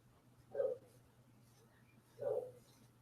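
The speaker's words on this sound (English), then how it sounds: "That dog knows us and he barks at us." Dog barking: two short, muffled barks about a second and a half apart, faint and distant over a low steady hum.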